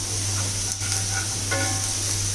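Onions sizzle steadily in a cast iron skillet being seasoned, with a constant close frying hiss and faint scrapes as they are stirred around the pan, and no talking.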